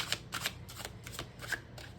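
Tarot cards are shuffled during a reading, giving a soft, repeated riffling rustle in bursts of roughly three or four quick flutters per second, close and quiet with no talking.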